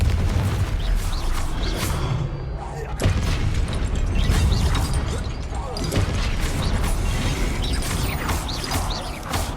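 Confringo blasting spell from Hogwarts Legacy, bursting in repeated booming impacts and rattling, mechanical crashes over a busy game soundscape, loud and close, with speech mixed in.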